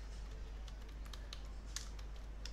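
Light, close tapping on a computer keyboard as a search is typed, a brisk scatter of soft key clicks over low background hum.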